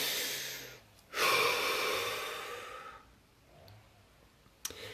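A deep breath: a long, loud inhale close to the mic, a brief pause, then a softer trailing exhale and a faint click, with no talk.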